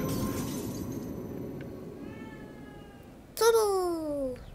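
Cat in the horror video game Evil Within 2 gives a drawn-out, rising-then-falling meow near the end, clear and fairly close, following a quieter stretch of game ambience and music.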